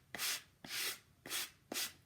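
Iron Orchid Designs painted paint inlays being gently sanded with a fine sanding block, four soft, evenly spaced rubbing strokes, close and quiet, with no talking.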